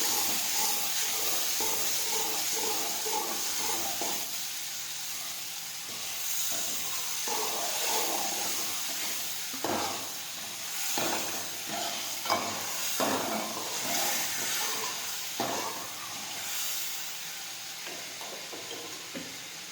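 Dal sautés in a pan with a soft, steady sizzle and hiss, broken by scattered stirring clicks and scrapes.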